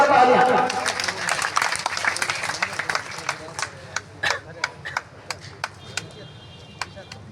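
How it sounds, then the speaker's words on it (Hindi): Crowd applause at a talent award ceremony honoring Veer Tejaji in Osian: loud, thick clapping at first that quickly thins into a string of scattered, isolated single claps spaced apart. "जोरदार तालियां।"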